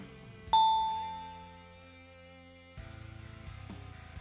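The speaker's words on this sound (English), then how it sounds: "Game show ding." A single bright game show ding sound effect rings out sharply, then decays slowly over about two seconds, clear and alone against a low background hum that thickens slightly afterward.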